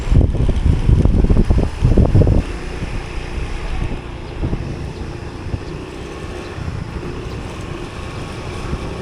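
A motorboat engine on the water churns as a loud broadband rumble with heavy wind buffeting, strongest at first and then settling into a steadier, slightly quieter drone.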